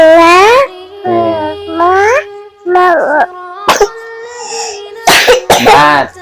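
A child coughs in short bursts between stretches of voiced, whiny vocalizing, close and loud, with a few sharp broadband hacks near the end.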